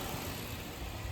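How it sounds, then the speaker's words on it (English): A Lexus car engine idles high after warming up for about five minutes, with a misfire problem. It gives a steady, close, continuous low rumble with even texture and no talk. "It's idling fine. However, the idle is high."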